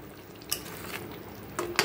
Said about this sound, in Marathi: तर अंडी जरा हलवून घेऊया